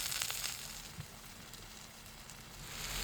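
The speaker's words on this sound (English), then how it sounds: "cooked over an open fire." Burgers cook over an open fire outdoors beside the River Severn, giving off a faint, steady sizzling hiss with soft crackles.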